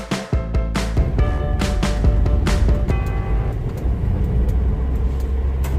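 A 1975 Opel Manta SR sports car drives along, its engine holding a steady, close droning hum with a few sharp knocks near the start.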